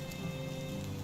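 Steady rain falls in the medieval village survival game Medieval Dynasty, a continuous, even patter of drops on surfaces at a moderate level, heard alone.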